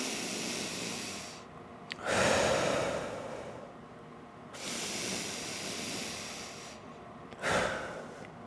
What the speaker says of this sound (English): And then I'm gonna breathe in through my nose.